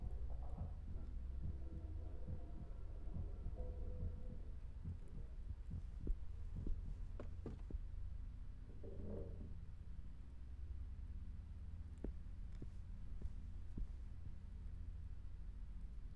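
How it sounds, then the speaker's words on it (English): A low, muffled heartbeat-like thumping plays in the horror video game Song of Horror, sitting under a steady droning hum with faint irregular clicks and no talking. "It was like a heartbeat?"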